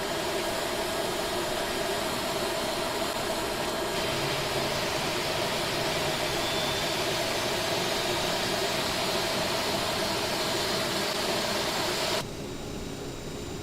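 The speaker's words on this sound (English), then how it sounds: "Starting engine number 2." A regional jet engine spools up inside a flight simulator cockpit, a steady loud whine and broadband rush with a constant tone that holds, then drops off abruptly near the end; no voices.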